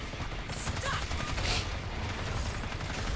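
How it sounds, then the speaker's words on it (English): Sentry guns in a video game fire continuously in rapid bursts, a dense and loud crackle of gunfire that fills the whole short stretch. "Look at my sentry guns absolutely annihilating this fucking thing."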